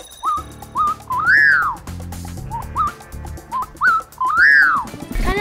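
A common pauraque nightjar whistles a series of short rising notes that build into two long, loud, upslurred and falling calls, close by, with a steady low hum underneath.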